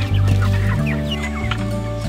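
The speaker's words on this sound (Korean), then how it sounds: "얘들 닭들도 먹어야 되고" Chickens clucking close by on a farm where they are fed corn, a dense run of loud overlapping clucks and short calls with no talking.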